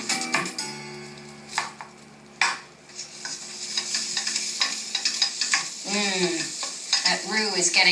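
Butter and flour roux cooking in a pan hisses softly while a utensil scrapes and stirs it in quick strokes, with brief talk rising near the end.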